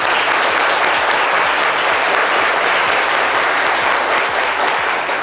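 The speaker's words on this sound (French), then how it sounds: "On va l'applaudir bien fort." Loud, sustained applause from a large crowd, steady dense clapping filling the whole moment without a pause.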